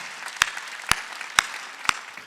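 Four separate sharp hand claps at an even, slow rhythm from a church congregation during a sermon, crisp and distinct against a quiet background.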